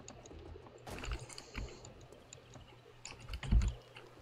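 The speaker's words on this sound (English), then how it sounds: "What is all that clicking?" Faint, quiet clicking while playing the game 7 Days to Die, scattered irregular clicks and taps, likely from a computer keyboard and mouse, with a few louder knocks near the end.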